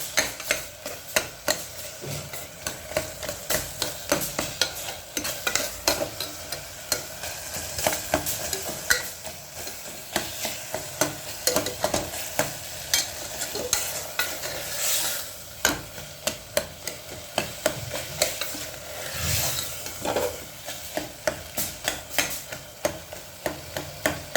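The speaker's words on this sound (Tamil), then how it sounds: "மசிஞ்சு வதங்குற வரைக்கும் நல்லா கரண்டியை வச்சு நல்லா இது பண்ணிக்கணும்." Tomato rice mixture being stirred and mashed with a ladle in a pan, rhythmic scraping and knocking strokes over a soft continuous sizzle.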